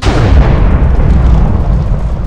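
A lightning strike from the Mjolnir hammer in a Minecraft mod lands as a loud, sustained booming rumble, heavy and close, that rolls on without pause.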